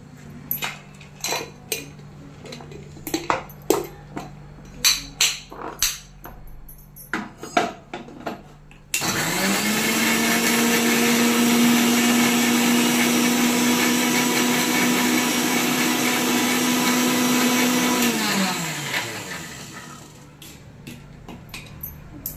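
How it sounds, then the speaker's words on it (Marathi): A kitchen mixer grinder turns ginger and garlic into paste. A loud, steady motor whine runs for about nine seconds, then winds down, after light clinking of utensils and a lid. "हे बघा, इथं अद्रकचे छोटे छोटे तुकडे करून घेतलेले आहे। आपण आता ते मिक्सर मधून काढून घेऊया।"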